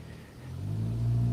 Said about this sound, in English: I'm just going to wait for that car.